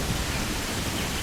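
Heavy rain pours steadily in the Bigfoot Life video game, a loud, even hiss of falling water with no talking.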